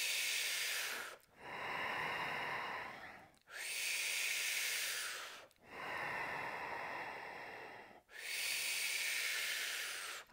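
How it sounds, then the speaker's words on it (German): Forceful, loud breaths are pushed in and out in a steady rhythm during a breathing exercise, five strong hissing breath cycles close to the mic with short gaps between them. "Kraftvoll atmen."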